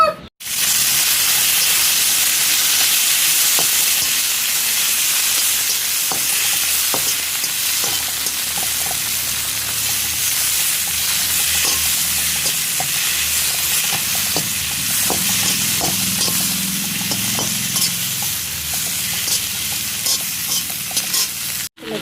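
Tomato fries in hot oil in a pan for a chicken curry, giving a loud, steady, close sizzle and hiss with occasional stirring scrapes, with no talking.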